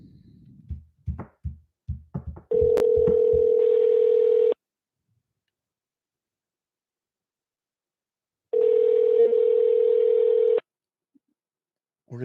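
A telephone line plays a rapid run of short dialing clicks, then a long steady dial tone that stops and later returns as an identical tone during a call to access voicemail, with silence between.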